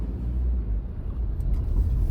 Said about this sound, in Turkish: Caddede bayağı kalabalık, yoğun trafik akışı var.